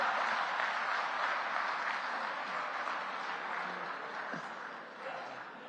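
A large audience at a national conference on happiness applauds continuously, a dense, steady wash of clapping that gradually thins and softens toward the end, with no voices standing out above it.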